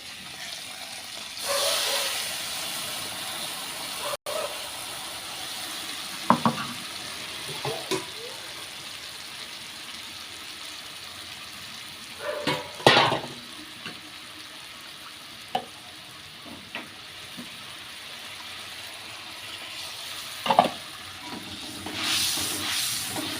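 A ground paste of poppy seeds, ginger and dried chilli fries in oil as a long, steady hiss and sizzle, broken by occasional stirring knocks and scrapes, with faint talk now and then.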